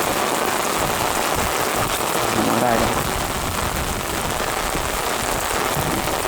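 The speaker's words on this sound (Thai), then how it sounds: "ฝนตกก็เริ่มแรงขึ้นแรงขึ้นนะ" Heavy rain pours steadily in a dense, hissing roar throughout, during cast-net fishing, with a brief spoken phrase in Thai partway through.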